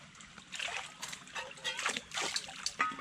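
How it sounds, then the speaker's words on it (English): Creek water splashes and sloshes as a cup is rinsed and swirled, in a series of short, fairly close splashes and trickles over quiet outdoor background. "Take your cup, rinse it out just with plain water, swirl it around, wash it out."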